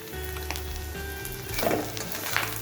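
Bottle gourd peel fries in a hot pan while being stirred, giving a steady, soft sizzle with occasional scraping stirs, close by and without speech.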